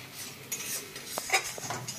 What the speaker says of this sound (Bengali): আর একটু হলুদ দিয়ে দেবো, দিয়ে এটাকে ভালো করে কষাতে হবে।